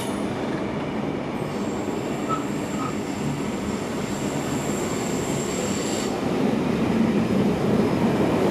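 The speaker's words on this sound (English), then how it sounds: "As we wait for 6029, we see more commuter trains running by." A commuter train runs past a station platform in New South Wales, with a steady rumbling roll of wheels on track and a thin high squeal above it, continuous and moderately loud.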